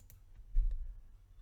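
A single computer mouse click on a file-manager option while setting up a 3D printing file, a short sharp tick near the middle, quiet and close with faint room noise.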